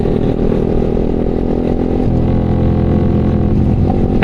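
A motorcycle engine and muffler drone steadily while riding, a continuous loud, rumbling exhaust tone with a faint clatter and no pauses.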